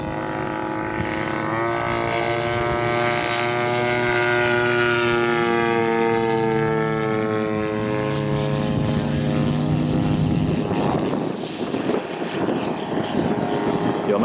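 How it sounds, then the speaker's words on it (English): A propeller-driven warbird aircraft takes off at an airshow in Michigan, its piston engine drone building to a loud, steady roar with shifting tones as it runs past close by. "Give it the power that you got and just get it in the air."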